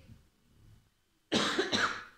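A person gives a sudden harsh cough, a close, loud double burst after a quiet pause, with nothing else heard around it.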